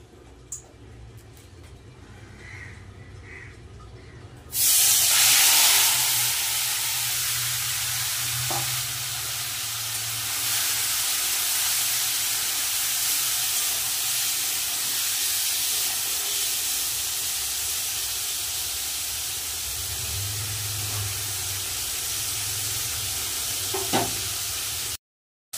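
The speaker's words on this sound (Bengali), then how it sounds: "তেল কিন্তু গরম হয়ে গেছে, এবার মাছটা মাখিয়ে রাখা মোরলা মাছটা দিয়ে দেবো।" Marinated mola fish goes into hot oil in a wok, setting off an abrupt loud sizzle that settles into a sustained, close, hissing fry for about twenty seconds, with occasional stirring scrapes.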